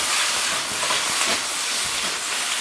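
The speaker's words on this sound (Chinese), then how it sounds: "葱姜蒜爆香，加入西红柿、西葫芦" Scallion, ginger and garlic stir-frying with tomato and zucchini in a hot wok, a steady loud broadband sizzle and hiss running throughout with no talk.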